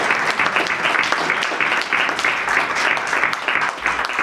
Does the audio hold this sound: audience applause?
yes